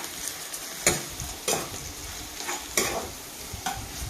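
Onions fry with salt in a pan, giving a soft continuous sizzle broken by a few sharp scraping stirs of a spoon, close and fairly quiet with no voices.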